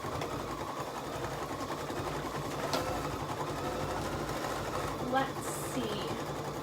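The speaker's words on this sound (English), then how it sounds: "while that is stitching out the final Happy Halloween" An embroidery machine stitches out a Happy Halloween design, its steady mechanical whirr running under a person talking nearby.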